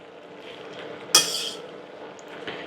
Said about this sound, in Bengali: আমি সবজির সাথে শাকটা একটু ভালো করে নাড়াচাড়া দিয়ে মিশিয়ে দিচ্ছি